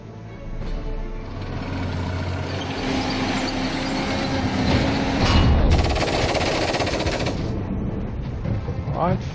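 Aircraft strafing gunfire in the Order of Battle strategy game, set in the Blitzkrieg invasion of Warsaw: a steady mechanical roar with rapid rattling bursts that swell loudest midway, then fade.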